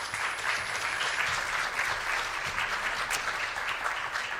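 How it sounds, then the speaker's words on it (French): A crowd claps steadily and densely for several seconds, a continuous wash of applause without pauses. "Merci d'accueillir chaleureusement, avec vos applaudissements, le président de l'Institut Kervégan, Stéphane Biss."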